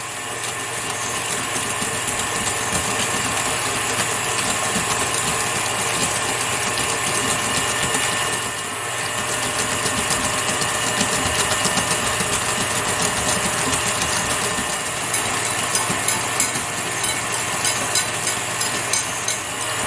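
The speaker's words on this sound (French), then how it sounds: "j'ai arrêté le mélangeur" An electric mixer whisks egg yolks with sugar, giving off a steady, loud mechanical whir with a rattling gear-like texture that runs unbroken apart from a brief dip partway through.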